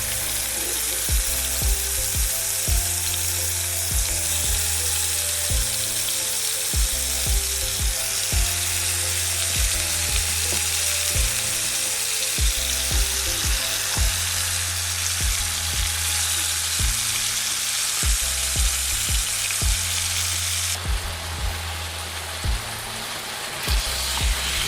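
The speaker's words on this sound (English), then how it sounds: "So I'm adding the pork to the oil because I'm gonna brown it first before cooking it." Thin pork slices browning in hot oil give a loud, steady, close sizzle for the whole stretch, with a dense crackle over a low rhythmic hum.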